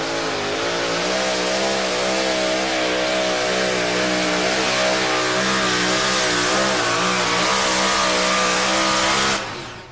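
Two-wheel-drive pulling truck with General Tire lettering roaring at a truck pull in Concord, North Carolina, its engine held at a loud sustained rev for nearly ten seconds before cutting off sharply.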